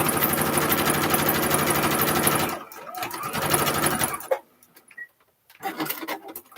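A sewing machine stitches a quilt-as-you-go bag panel in a loud, close, rapid run for about two and a half seconds. A few slower bursts of stitching and handling noise follow, then short pauses.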